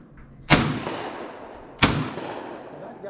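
Two loud shotgun blasts at clay targets on a 5-stand shooting range, about a second and a half apart, each a sharp crack followed by a rolling outdoor decay.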